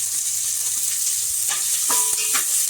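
Long-cut onions fry in hot oil for a Maggi noodle gravy, giving a steady close sizzle with a few clinks of stirring near the end.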